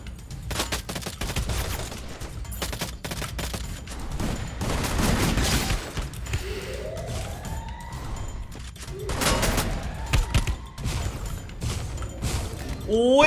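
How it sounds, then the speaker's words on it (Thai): Gunfire in the video game Free Fire, bursts of shots with sharp broadband cracks scattered across the stretch, mixed with other game effects and rising tones. "ซ้ายมือมีคนยิงเหมือนจะเป็นเสียงฟาร์มาร์นะ"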